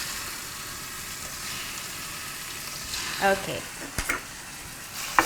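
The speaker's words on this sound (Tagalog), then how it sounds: "our pan is hot and so is our olive oil. And we are going to pan fry it" Chicken pan frying in hot olive oil gives a steady, soft sizzle throughout, with a few louder clatters and pops near the end as pieces are moved; a single brief word is spoken.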